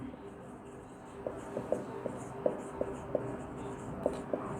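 Chalk or marker strokes writing out the working of a statics problem on five concurrent forces, a string of light taps and scratches against a steady room hum, with no voice.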